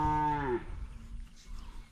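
A herd of cattle with mama cows, calves and a bull, out under a tree, gives one loud, drawn-out moo at the start, which fades into a low, rumbling ambience.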